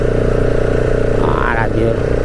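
A motorcycle rides along a road between Gandhinagar and Sabli, its engine giving a continuous loud drone with a brief rising whine near the middle, heard close over wind.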